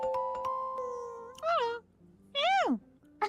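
A cat meows in a cartoon scene, two drawn-out rising-and-falling meows up close, separated by a short pause, following a held musical tone at the start.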